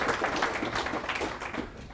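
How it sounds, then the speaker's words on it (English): Brief, soft round of audience applause at a business talk, dense scattered clapping that stays fairly quiet and fades near the end. "A little round of applause for Aruba."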